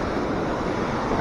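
Rushing river flowing far below a bridge over Clarendon Gorge, a steady broadband roar mixed with wind buffeting the microphone, continuous and even throughout.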